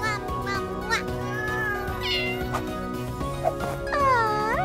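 A cartoon cat meows in an animated doll-play scene for babies, several short sliding mews over light music and bright sound effects, with voices talking.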